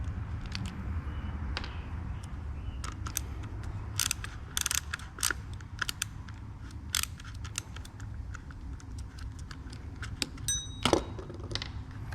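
Screws being undone and a Stihl 200T chainsaw handle cap being pried apart with a screwdriver, heard as close, irregular clicks, ratcheting ticks and sharp plastic snaps with brief rattles, no talking.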